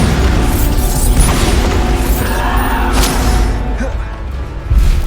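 Bombarda explosion spell in Hogwarts Legacy: loud, sustained blasting rumble with crashing debris and a fresh boom near the end, under faint game voices.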